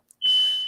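A single shrill electronic alarm beep sounds after a brief tick, piercing and steady, close and loud with nothing else heard.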